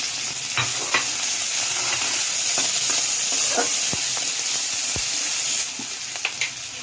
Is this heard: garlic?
yes